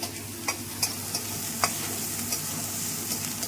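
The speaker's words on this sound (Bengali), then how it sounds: "পেঁয়াজটা এবার ভেজে নিই একটু" Onion sizzles steadily in shallow oil left over from frying pointed gourd, with a spatula scraping and stirring in several sharp, intermittent strokes close by.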